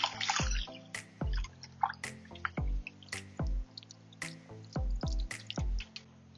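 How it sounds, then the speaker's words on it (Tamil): Basmati rice being washed in water for biryani, a run of about seven repeated splashing, sloshing strokes in a fairly even rhythm, close up and alone. "இதை இப்போ ஒரு 4 to 5 டைம்ஸ் நல்லா வாஷ் பண்ணணும்"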